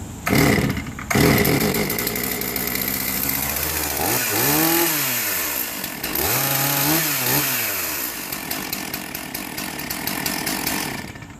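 A Stihl MS 461 chainsaw is pull-started on half choke, sputtering briefly before revving up loud and close, its engine rising and falling through a few throttle bursts.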